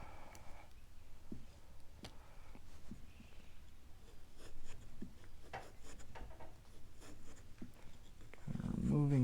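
A carving tool scrapes and rasps at a pumpkin, shaving and rounding out material in a close, steady run of short scratchy strokes with a few sharper clicks, ending in a louder thump.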